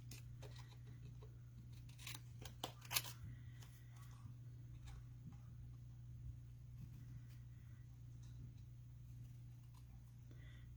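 Small scissors snip around a paper Scottie dog cutout in short, quiet clicks with brief pauses, set against a steady low electrical hum; no one talks.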